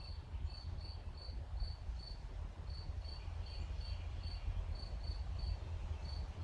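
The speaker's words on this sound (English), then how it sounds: "there's only a cricket now" Outdoor night scene with a single cricket chirping in steady repeated bursts, moderately near and alone over a low background rumble, with no voices.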